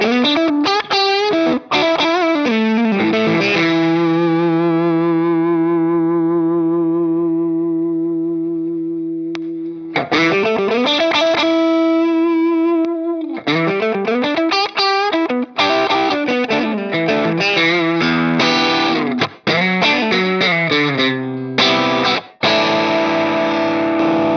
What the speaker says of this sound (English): We'll start with the full drive because this is kind of like a dark variation on the tube screamer.